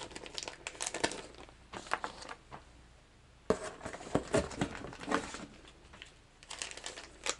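A plastic bag crinkles and rustles in irregular bursts as it is handled during an unboxing of fishing lures, close and fairly quiet, with short pauses between bursts.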